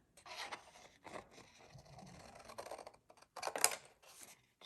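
Scissors cutting through a paper bag to make a treat bag, with several short, crisp snips and scraping strokes in irregular bursts, close up and fairly quiet with pauses between cuts.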